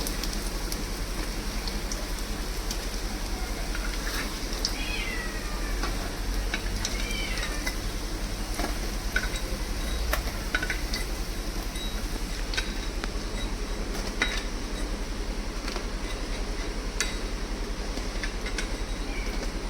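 Banana flower koftas fry in hot oil, a steady crackling sizzle with scattered pops and a few utensil clinks as pieces are lifted out, continuous and close.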